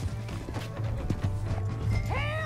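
Horse hooves galloping in the Western open-world game Red Dead Redemption 2, with a steady clip-clop under game noise and a whinnying neigh near the end.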